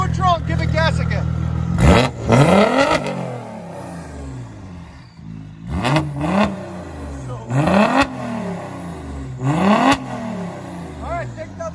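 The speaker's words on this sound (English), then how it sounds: "Okay, put it in neutral and give it gas again." A 2001 Audi S4 with straight-pipe exhaust revs in neutral, with four or five loud, close throttle blips that rise and fall back to a rough idle, and voices speak between the revs.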